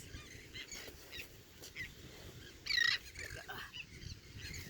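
Birds calling at a beach: a brief cluster of bright, chirping calls rises for a moment over steady outdoor wind and surf noise.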